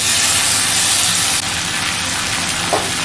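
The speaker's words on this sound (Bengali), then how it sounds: "এখন আমি এর মধ্যে দিয়ে দিচ্ছি গ্রেট করে রাখা ঝিঙ্গে।" Grated ridge gourd goes into a pan of browned fried potatoes, giving a loud, steady hiss and sizzle that drops slightly partway through and continues close by.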